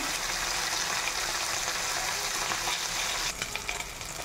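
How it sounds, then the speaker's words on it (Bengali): Fish pieces frying in oil in a pan, giving a steady, dense sizzle that holds close and even, then turns slightly rougher with a few sharper crackles near the end. "মাছগুলো ভাজা হয়ে গেছে"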